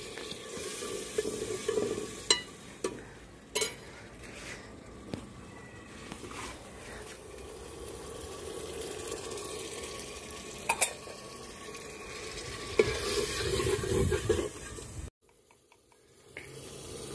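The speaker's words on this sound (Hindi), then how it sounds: "हुण आपां ने इहनूं चंगी तरह भुन लैणा।" Potatoes sizzle and fry in a pan for a Punjabi rural curry, with steady crackling and occasional scraping stirs throughout, ending in a brief pause and then softer frying.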